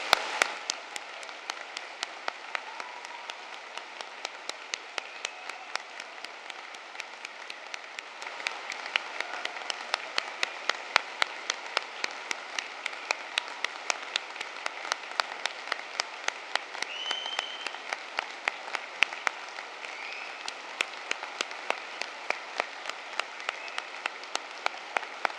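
A large audience applauds graduates at a London degree ceremony, a long, steady wash of many hands clapping that runs unbroken at even strength throughout.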